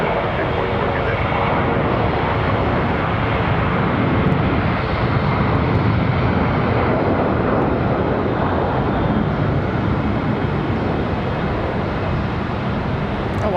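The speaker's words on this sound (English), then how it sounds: "One coming in from Albany, New York, American Airlines 1785" An American Airlines flight from Albany arriving at Charlotte Douglas International Airport, a steady broad engine roar held at constant loudness, with talk running over it.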